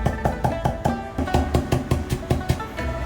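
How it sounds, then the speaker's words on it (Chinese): Ginger slices are minced with a kitchen knife on a chopping board, giving a fast, steady series of sharp chops about five a second, loud and close with no talking. "然后剁成姜米。"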